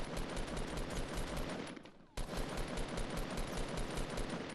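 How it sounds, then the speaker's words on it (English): Rapid automatic gunfire in a Fortnite match, dense bursts crackling continuously from several directions, dropping away briefly before resuming just as loud and relentless. "We're getting shot from everywhere."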